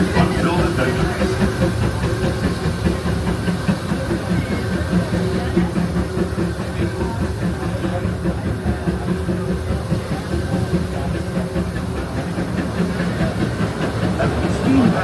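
A Disneyland Railroad steam train ride late at night after park closing in the Christmas season, heard as a steady, continuous rumble of rolling wheels with hiss, holding level throughout.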